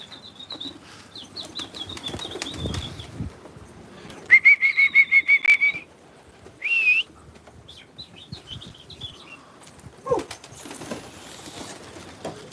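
A flock of pigeons takes off from a rooftop in bursts of flapping wings with a whistling flutter, interspersed with quieter stretches and a few faint chirps.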